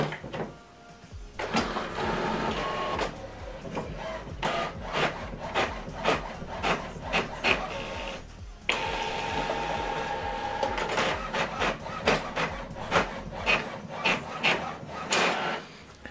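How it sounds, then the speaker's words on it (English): A home printer prints a double-sided color document with a run of mechanical whirring, rhythmic clicking and paper-feed rubbing, including a brief pause mid-job before the feed resumes, heard fairly close and moderately quiet. "Now this document is going to print out."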